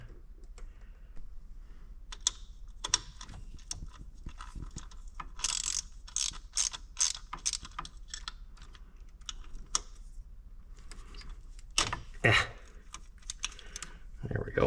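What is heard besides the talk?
10mm socket ratchet wrench turning a bolt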